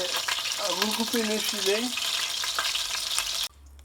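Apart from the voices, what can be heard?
chicken pieces frying in a pan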